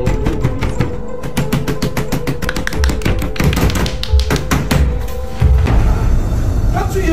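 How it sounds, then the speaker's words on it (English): A rapid series of sharp taps and knocks, like knuckles rapping on a door, repeats in quick bursts over a loud, dense background with some voices present. "Can't you hear me knocking, sis?"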